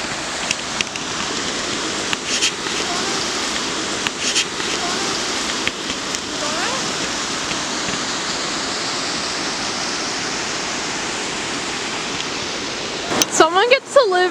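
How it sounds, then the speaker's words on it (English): A creek in the Olympic rainforest along the Little River Trail rushes steadily as a broad, continuous wash of water noise, with faint rustles and a short clatter of handling sounds near the end. "there's a creek right over there where we are heading right now"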